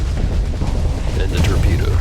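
Rift weapons firing in a space battle in the game Starsector, a dense, continuous booming roar with brighter crackling bursts toward the end.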